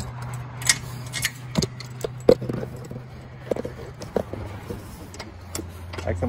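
An eBike carrier is locked down with a scatter of close metallic clicks, rattles and jangles, irregular and fairly quiet over a low steady hum.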